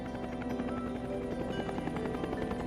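A helicopter flies in Korean War footage, its rotor giving a steady, fairly faint throbbing chop with a continuous engine whine underneath.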